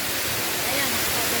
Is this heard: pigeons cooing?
no